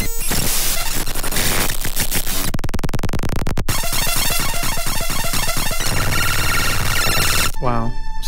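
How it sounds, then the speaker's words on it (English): An MS Paint executable file imported into Audacity as raw audio plays as harsh, loud digital noise, with bursts of static hiss and buzzy stepped tones that shift abruptly in dense, chaotic blocks. "So there's some white noise and some tone."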